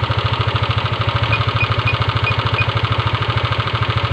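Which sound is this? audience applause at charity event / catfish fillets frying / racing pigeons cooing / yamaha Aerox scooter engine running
yamaha Aerox scooter engine running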